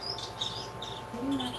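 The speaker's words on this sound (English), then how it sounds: "Look, I heard birds! I heard birds!" Several brief, high bird chirps heard indoors, faint and scattered over a steady electrical hum with a low murmur underneath.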